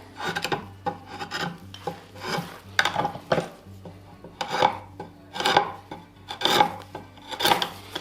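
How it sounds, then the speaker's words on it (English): A drawknife shaves a wooden tenon in a series of about ten rhythmic rasping strokes, each a loud, close scraping pull, with short pauses between them and no talking. "it doesn't take very long just to cut this tenon on the end here"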